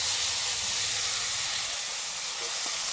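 Spice paste for shukto hits hot oil in a pan, giving a steady, even sizzling hiss that holds close and unbroken throughout.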